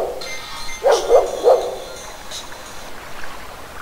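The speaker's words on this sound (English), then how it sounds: "Is that your dog?" A dog barks three times in quick succession at mid distance in The Lost Crown adventure game, followed by quiet background ambience.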